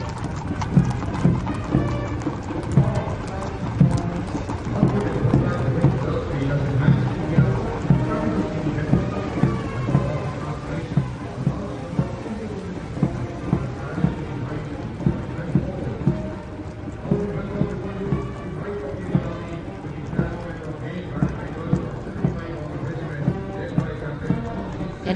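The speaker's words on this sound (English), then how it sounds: "after the clip-clop of the horse hooves on the tarmac" Steady clip-clop of many horse hooves on tarmac at the Republic Day parade on Kartavya Path, a continuous rhythmic patter, with murmuring voices and crowd noise underneath.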